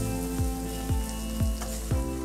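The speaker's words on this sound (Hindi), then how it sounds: "बस इन सब मसालों को मिक्स कर लेती हूँ।" Spices for palak paneer fry in hot oil in a pan, a steady close sizzle broken by four evenly spaced scraping stirs of a spoon, with no voices.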